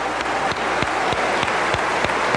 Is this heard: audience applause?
yes